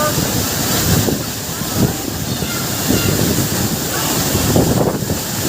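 Kolung waterfall in Morang, a loud, constant roar of rushing water and spray close by, dense and unbroken, with faint voices and wind buffeting the microphone.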